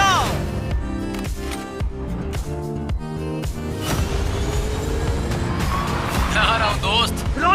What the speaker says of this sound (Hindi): कम ऑन, मैं पूरा थ्रॉटल दबा रहा हूँ दोस्त।